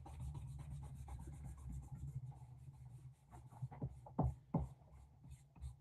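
An eraser rubbed back and forth across a pencil drawing on paper, soft scratchy strokes close up, growing into a few louder, sharper rubs toward the end.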